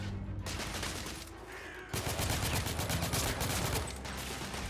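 Dense gunfire from the video game The Order: 1886, a rapid fusillade of overlapping shots and machine-gun bursts that drops briefly, then surges louder and keeps rattling without pause.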